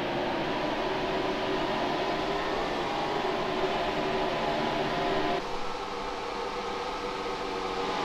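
Engine drone of stock cars during a NASCAR Heat Evolution race replay, a steady dense roar with a slight tonal shift partway through, continuous and fairly loud with no voices.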